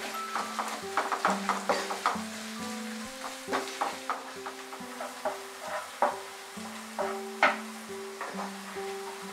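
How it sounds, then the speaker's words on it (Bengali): Onions frying on medium heat in a pan with a little salt, early in a chicken do pyaza, give a steady sizzle broken by repeated stirring scrapes and clicks, with tonal background music running underneath. "পেঁয়াজটাকে মাঝারি আঁচে ফ্রাই করে নেব।"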